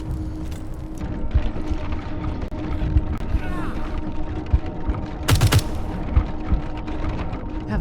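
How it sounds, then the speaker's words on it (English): Gunfire in the video game Wasteland 3: bursts of rapid shots and scattered single cracks crackle through a busy battle mix, with a sharp louder blast near the end and a voice faintly present. "Haven't heard so much gunfire since we left the plains."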